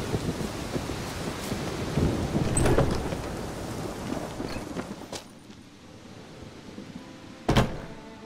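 Steady rain with rolling thunder in The Witcher 3 video game, a continuous wash of downpour with a louder crack of thunder near the end, no voices over it.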